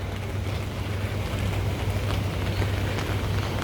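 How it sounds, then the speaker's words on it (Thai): Rain begins falling on a morning walk through Holland Village, Singapore, a dense, steady hiss of drops with a low rumble underneath, continuous and fairly loud, with no talk. "เดินอยู่ดีๆ ฝนก็ตกลงมานะครับ ฝนก็ลงเม็ดลงมา"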